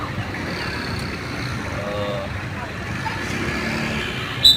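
A car rolls slowly past a school in Ubon Ratchathani, Thailand, giving a low, steady engine and road rumble heard from inside while someone talks over it.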